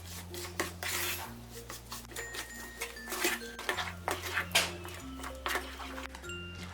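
A spoon scrapes and clinks repeatedly against a pan as sooji halwa is stirred with sugar and food colour, with rhythmic metallic rubbing over a low steady hum from the stove.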